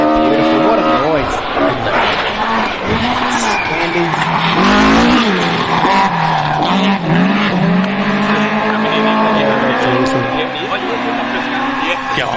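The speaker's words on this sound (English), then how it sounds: "Go on, tell me a better sounding rally car." Rally car with a BDA engine racing hard over a crest on a special stage of the International Rally of Whangarei in New Zealand, a loud, high-revving, crackling engine note rising and falling through gear changes, with spectators talking over it.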